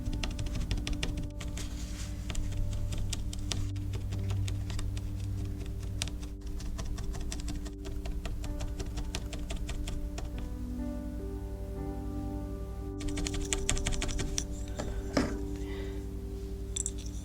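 Barbed felting needles stab repeatedly into wool while an ear is shaped for a DIY fox kit, a steady fast patter of soft pokes over a constant low background hum, close and without talk.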